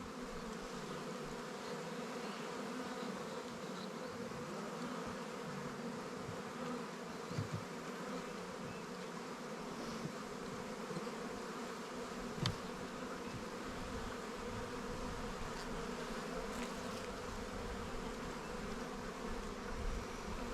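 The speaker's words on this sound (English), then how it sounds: "You can see the bees." Honey bees hum continuously over an open hive frame during a queen check, a steady, even drone with a few brief clicks and bumps, close and moderately quiet with no voices.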